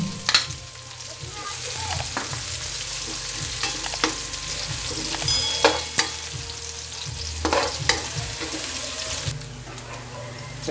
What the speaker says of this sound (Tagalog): Saka na natin gisa yung bawang natin.